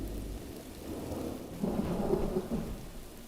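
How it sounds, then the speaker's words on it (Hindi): Heavy rain hisses steadily as a low roll of thunder rumbles in partway through, distant and fairly soft, with no voices. "आहा, देखो तो बारिश।"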